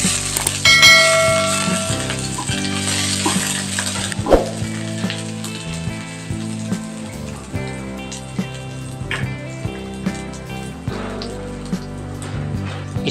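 Onions hit hot oil in a pan with a loud, dense sizzle and crackle that stays steady, with a few sharper pops and stirring taps.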